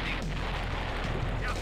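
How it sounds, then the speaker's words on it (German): Explosions in the real-time strategy game Command & Conquer: Red Alert, Soviet campaign, heard as a dense, continuous rumble of booming blasts filling the whole short stretch, loud and close. "Hört ihr mal auf zu explodieren die ganze Zeit"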